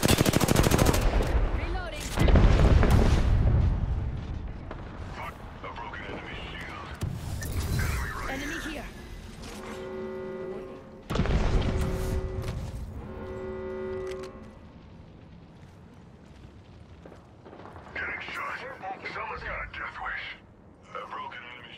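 Gunfire in the video game Apex Legends, loud bursts of shots and impacts mixed with game sound effects, an electronic tone and voices talking over the action.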